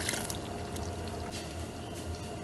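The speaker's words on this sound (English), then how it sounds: "we are going to add some water" Water pours steadily into a pot of Nigerian Iba soup, a continuous splashing wash that runs close by without pause.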